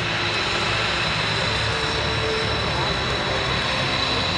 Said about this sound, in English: The C-17's first pass today will be a high-speed pass.